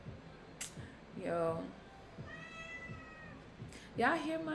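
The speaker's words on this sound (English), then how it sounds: "Y'all hear my cat?" A pet cat meows several times from somewhere behind a person streaming live, the cries rising and falling with clear harmonics, mixed with a short burst of talk and background music.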